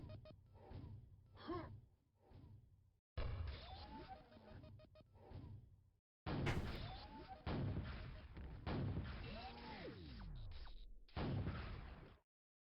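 Video game explosions and weapon blasts from Quake II's Call of the Machine expansion come as a run of loud, booming bursts, some separated by short silences.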